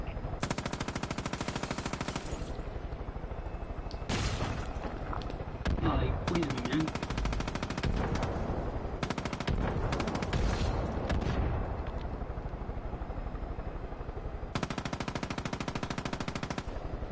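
Rapid bursts of machine gun fire in a Far Cry 5 firefight, loud and sustained in several long volleys separated by brief pauses, with voices talking underneath.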